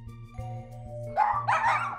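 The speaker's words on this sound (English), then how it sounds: "now he's barking at the door" A dog barks at the door in a couple of loud, close bursts near the end, following a steady low, rhythmic background sound.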